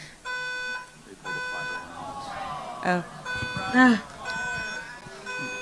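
A fire alarm pulled to disrupt an event sounds as repeating electronic tone bursts in a steady pulsing pattern, with voices talking over it.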